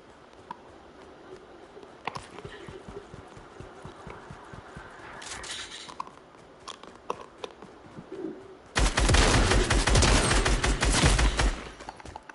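Gunfire in Fortnite: scattered faint shots at first, then a loud, rapid automatic burst rattles for about three seconds before cutting off, with no talking.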